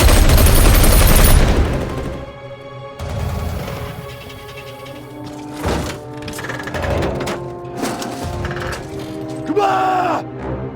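Gunfire in a chaotic shootout: a loud burst at the start, then scattered sharp reports through a dense mix of music and voices.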